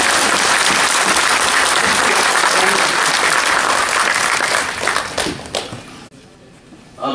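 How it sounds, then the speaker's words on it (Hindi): A large crowd claps loudly at an official government launch event in north-east India, dense sustained applause that tapers off and breaks into scattered claps near the end. "मुझे अपेक्षा की वैसे तालियां नहीं वैसी"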